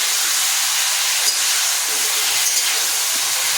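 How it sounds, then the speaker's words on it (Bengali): Cauliflower pieces frying in a pan with a pinch of salt and turmeric give off a steady, loud, unbroken sizzling hiss with no talk. "এই যে দেখছেন, ফুলকপিটা এখন ভালো করে ভাজা হচ্ছে।"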